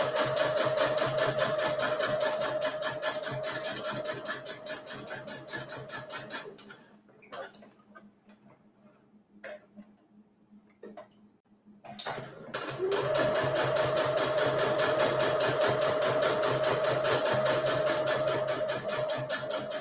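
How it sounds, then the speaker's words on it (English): A sewing machine top stitches the long edges of a fabric coffee cup cozy, a fast steady whirring stitch run that pauses for several seconds with faint handling clicks, then starts up again. "I'm just top stitching each long edge about 1/8 of an inch from"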